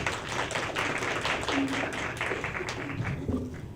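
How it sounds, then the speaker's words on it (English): Steady applause from a church health seminar audience, a dense wash of clapping that holds at an even level throughout, with a few faint voices mixed in. "let's give a round of applause for Ashley."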